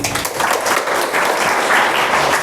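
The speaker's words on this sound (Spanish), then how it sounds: "Dele palmas al Señor, hermano." Church congregation clapping for the Lord during a Spanish-language service, a dense, steady wash of applause filling the whole moment at close range with no voices breaking through.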